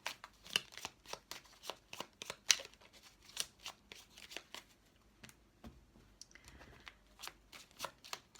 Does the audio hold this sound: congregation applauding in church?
no